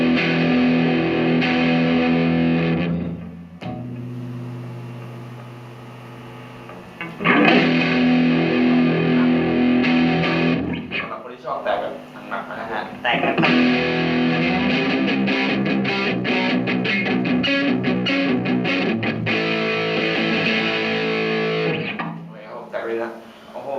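An electric guitar plays through a Fender Frontman 212R amplifier with the gain raised, giving a loud, distorted tone in strummed bursts separated by short pauses, with speech heard around it.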